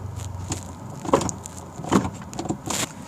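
Electric sunroof on a Hyundai Venue CRDi compact SUV motoring shut, a soft whirring hum with a few faint clicks and thumps over about three seconds, close up inside the cabin.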